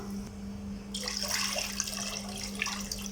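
Water pours into a wide pan of sugar for a rasagulla syrup, a close splashing stream starting about a second in and running steadily over a low background hum.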